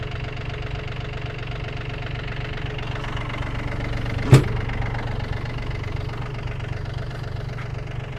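A small Yanmar Japanese mini tractor engine idles steadily with a low, even chug, a single sharp clack partway through, and no talking.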